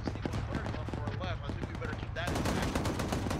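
Machine gun suppressive fire in the video game Arma 3 rattles in rapid, repeated bursts that grow louder and denser toward the end, with a voice speaking over the shooting.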